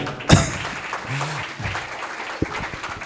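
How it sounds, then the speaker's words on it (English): Audience clapping after a closing ceremony speech outdoors in wind, sparse and uneven applause with a loud thump near the start, fairly close and brief. "Clapping."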